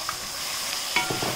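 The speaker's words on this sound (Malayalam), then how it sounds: "ഇനി ഇതൊന്ന് ഇളക്കി കൊടുക്കണം." A spoon stirs spice powders and ground paste in a pan for tomato onion chutney, producing a few soft scraping strokes over a gentle background sizzle in a brief burst.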